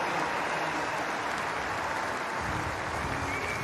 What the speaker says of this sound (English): the crowd here in Birmingham supporting our athletes as they leave the track